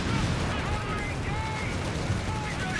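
Sturm rocket artillery fires in a Company of Heroes 3 match as a dense, continuous rumble of launches and blasts, heard under steady commentary.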